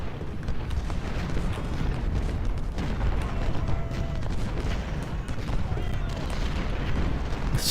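Cannon artillery fire in the Ultimate General: Civil War video game, a continuous rumble of booming shots and battle noise under a voice.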